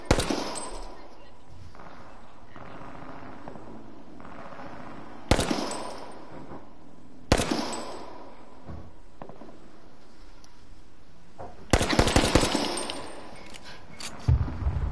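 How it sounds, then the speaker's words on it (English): Gunfire in the video game H1Z1, with a pistol firing rapidly: loud sharp shots erupt in clusters at several points, with a dense burst near the end over a busy game background. "You hear a pistol shooting like crazy"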